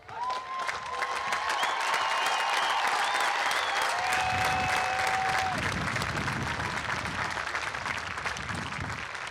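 Sustained applause fills the Orting High School class of 2025 graduation ceremony as a large crowd claps steadily for the graduating seniors, loud and continuous throughout with a few faint whistles.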